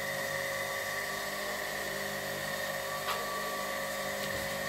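A machine tool runs steadily with a constant whining hum and layered tonal drone, loud and unbroken throughout, with a couple of faint clicks and no talk.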